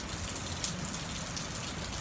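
Steady rain falls outdoors, an even close hiss of drops hitting surfaces with no other sounds.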